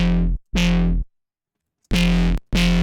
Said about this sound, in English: See, once we've added distortion, compression, we've added all these effects, it kind of gets uncontrolled again.